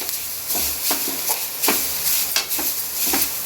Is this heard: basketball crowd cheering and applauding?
no